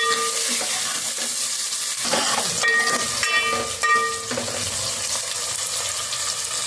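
Sliced onions and green chillies frying in a tempering of hot oil for a bottle gourd curry, a loud, continuous close-up sizzle and hiss with stirring scrapes and brief steamy bursts.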